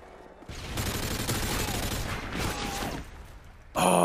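Shooter video game gunfire as a loud, sustained stream of rapid shots lasting several seconds, cut off abruptly before a sharp, bright burst at the end.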